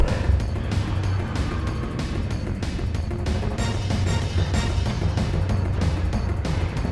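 Pickup truck driving in the Final Fantasy VII video game, a steady engine roar with repeated whooshing surges, loud and continuous with no talk.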